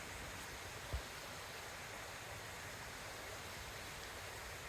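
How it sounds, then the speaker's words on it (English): Water running down behind old stone walls in a wet Pembrokeshire woodland, a steady broadband rush heard at moderate distance with one faint knock early on, no voices. "And the water's really dropping down behind it"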